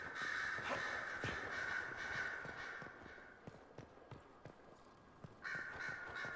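Crows cawing in the video game Dragon Age Inquisition, several harsh calls mixed with clopping hoofbeats and ambient noise, moderately loud, with the cawing fading midway and returning near the end.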